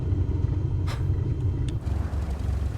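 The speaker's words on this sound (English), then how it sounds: "Hey, heard that? This bus!" A bus rolling past in Flight Simulator 2024, a low heavy rumble of a diesel engine with a short hiss like an air brake, moderately close and steady.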